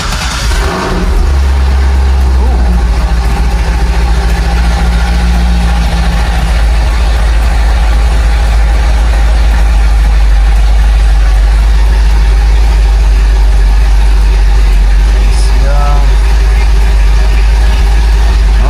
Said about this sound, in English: All right, first fire up after the headers and all that.